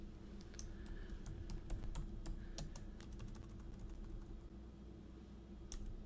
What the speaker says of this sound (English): I'm going to just type autumn leaves